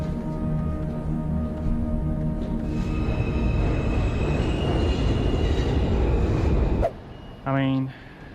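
A subway metro train in China rumbles steadily along the track with a broad roar, then the noise drops sharply and a short rising electronic tone chimes near the end; a voice talks over it.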